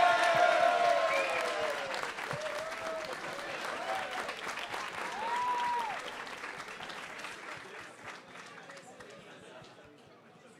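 Loud crowd applause and cheering for a tournament grand final champion, slowly fading over ten seconds, with a voice calling out over it early on.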